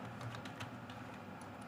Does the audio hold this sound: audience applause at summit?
no